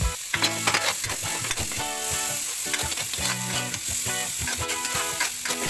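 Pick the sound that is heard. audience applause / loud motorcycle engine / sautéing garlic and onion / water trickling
sautéing garlic and onion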